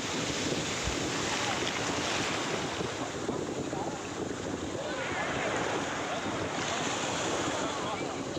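Big sea waves surge and roll steadily onto Mararikulam beach, a continuous loud wash of surf mixed with gusting wind across the microphone, with no pauses between breakers.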